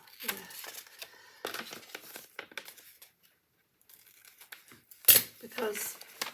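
Paper for a jacket sleeve pattern is cut and handled, with crisp crinkling, rustling and short tearing snips in uneven bursts and a brief quiet gap, close by and moderately loud, and a voice faintly present.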